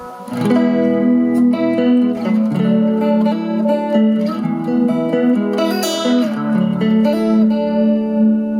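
A clean electric guitar rings out sustained chords and notes through a Line 6 Spider Classic 15 amplifier, bright and undistorted, playing alone.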